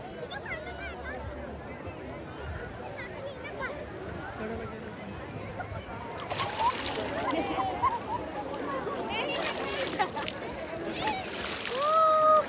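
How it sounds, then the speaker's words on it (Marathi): Sea waves splash and wash ashore at Radhanagar beach, a steady broadband rush that swells louder in the second half, under frequent family voices and shouts. "लाट आली थांबा"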